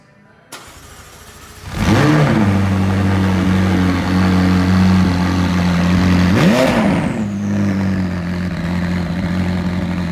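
A McLaren 600LT starts up with a sharp bark, then two strong revs roughly five seconds apart settle back to a steady idle, loud and close, with no talk over it.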